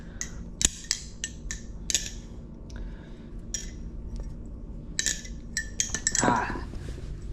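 A balisong butterfly knife of 420 stainless steel is flipped, giving sharp metallic clicks and clacks in an irregular rhythm, close and fairly quiet, with a brief rattling flurry near the end.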